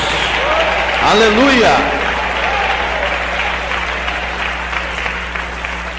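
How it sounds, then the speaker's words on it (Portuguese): Congregation clapping in a church, continuous loud applause with a voice shouting praise over it, and a low steady hum underneath. "Agora eu quero ouvir palmas misturado com glória a Deus."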